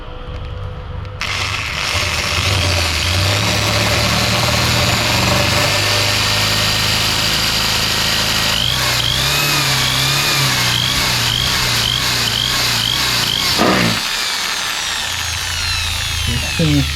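A power drill with a large bit bores a hole to fit a visor on an RS 200 motorcycle, whining loudly and steadily close by, with changing pitch and a few short pauses.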